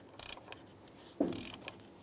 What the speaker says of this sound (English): 36 millimeter socket, and we're going to break this canister cover right off.